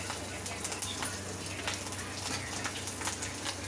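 Five-spice tempering and green chili crackle and sizzle in hot oil, a steady bright hiss with scattered tiny pops throughout, fairly close and without speech.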